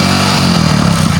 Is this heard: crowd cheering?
no